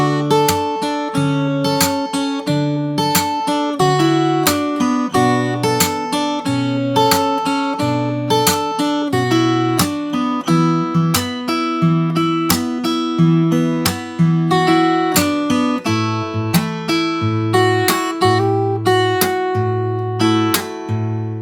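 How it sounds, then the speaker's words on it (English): Fingerstyle acoustic-style guitar plays the verse of a song alone, a steady flowing pattern of plucked bass notes and melody over about twenty seconds, close and evenly loud throughout. "So I'll play the whole second half of the verse once."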